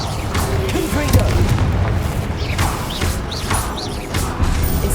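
Confringo explosive spell in the video game Hogwarts Legacy, heavy booming blasts and crashing impacts layered over a constant rumble, loud and close, with short whooshing bursts scattered between them.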